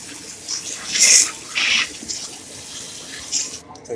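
Water splashes and pours out of a container while seafood is washed for boiling, in short, bright bursts of running and spattering liquid heard close by.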